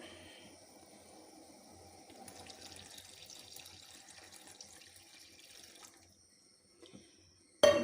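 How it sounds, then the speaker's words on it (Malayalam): Cow's milk is poured into a thickened rambutan sugar syrup for payasam, a soft, steady stream of liquid lasting several seconds. A quiet pause follows, then a sharp knock at the very end. "ഇനി നമുക്ക് ഇതിൻ്റെ അകത്തേക്ക് പശുവിൻ പാൽ ഒഴിക്കാം"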